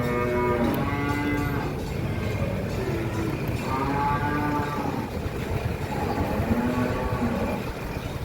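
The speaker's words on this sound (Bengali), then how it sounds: "এই 6টা ষাঁড় বাচ্চা" Six young bull calves moo repeatedly at a cattle market, their drawn-out calls overlapping close by against a constant low background rumble, with no talk.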